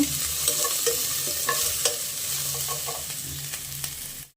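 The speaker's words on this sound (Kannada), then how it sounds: "ಫ್ರೈ ಮಾಡ್ಕೊಳ್ಳೋಣ" Ridge gourd palya fries in a pan under brisk stirring, a dense sizzle with quick spatula clinks and scrapes that stops abruptly at the end.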